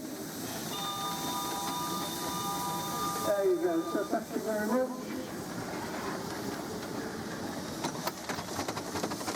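Steam railway engines at a heritage railway rolling past with steady rail rumble and clatter, a whistle-like tone briefly sounding, while a voice talks over it.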